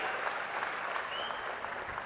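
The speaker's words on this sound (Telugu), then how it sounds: "గట్టిగా చప్పట్లు కొట్టి అభినందించండి" An audience at a public political gathering applauds, a steady dense patter of many hands clapping together, sustained and even throughout at moderate distance.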